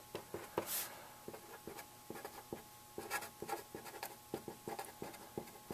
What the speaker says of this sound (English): I'll write those in.